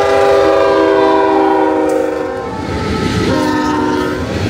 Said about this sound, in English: This is one of the longest trains I've ever had to sit and wait for.